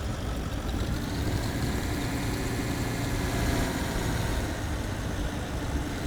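A snowplow truck's engine runs under load while plowing in Snowplow Simulator, a continuous deep rumbling drone with broad noisy texture, steady and loud throughout.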